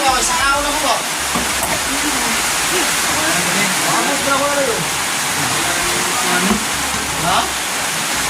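Loud, steady rush of running water filling the scene, with voices talking faintly underneath.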